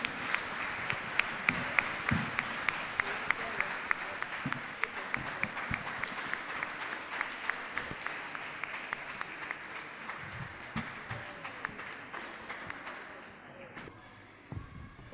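Audience applause with many individual sharp claps standing out, sustained for a long stretch, then fading into murmured voices near the end.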